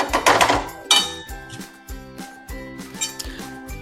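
Spoon scraping and knocking against a pan while vegetable filling is stirred and mixed, with a string of sharp metallic clinks and taps at an uneven pace, fairly close.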